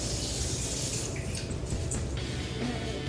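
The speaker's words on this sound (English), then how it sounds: "And now I'm gonna put the water." Water is poured steadily into a bowl holding glue for making slime, a continuous close splashing and trickling sound with no talk.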